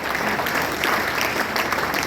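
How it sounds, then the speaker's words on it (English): Brethren at a Freemasons' half-yearly communication and convocation in Nigeria applaud, a steady, dense wash of clapping from a sizeable crowd that carries on evenly throughout. "I hope that you will give him a round of applause"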